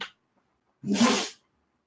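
One short, sharp sneeze bursts out after a moment of quiet, close by and fairly loud.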